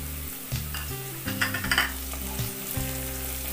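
Long-cut green chilies fry with light-brown onions in a pan for aloo methi, a close, continuous sizzle with soft stirring scrapes and a few crackling surges.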